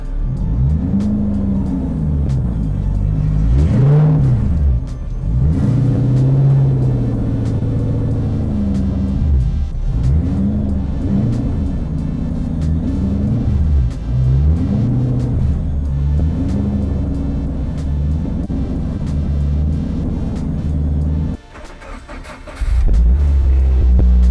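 A car engine rumbles and revs continuously as it drives, its pitch swelling and dropping in repeated surges, close and loud for the whole stretch.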